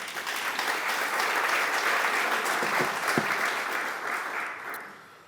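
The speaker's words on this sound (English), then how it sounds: "our community deserves a round of applause for that" A business community gathering applauds warmly, a full even round of clapping that holds steady and then fades out over the last second.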